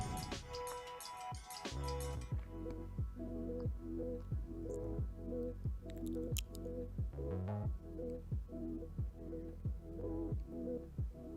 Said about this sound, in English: Continue stirring on medium flame so that they get roasted evenly.